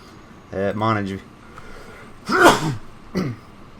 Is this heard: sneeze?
yes